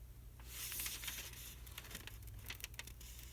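Scissors cut a paper half circle for a journal, producing quiet, close crinkling snips and rustles in an irregular rhythm over a faint low hum.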